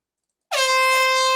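A single loud air horn blast bursts in after silence and holds steady, a bright brassy blare sustained to the end.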